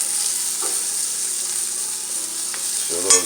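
Butter sizzling in a cast iron pan with already softened sautéed vegetables, a steady close hiss throughout with a brief clatter near the end, no talking.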